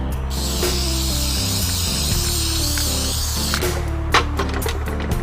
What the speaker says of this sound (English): And I'm just going to spray a little bit of flat on there.